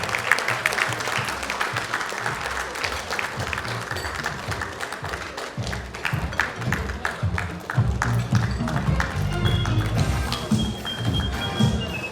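Audience applause at a GCUOBA Lagos branch alumni gathering, a steady wash of many hands clapping that runs the whole time, mixed with low crowd murmur and background music, growing slightly fuller toward the end.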